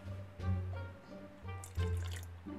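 Water is poured into a clear slime mixture in a few separate bursts, trickling and splashing up close, with quiet gaps between pours.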